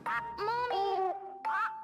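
Duck quack from the Silent Hill: Shattered Memories video game, a few nasal honking quacks played back in rough, degraded quality, close and alone, with a thin steady tone running underneath.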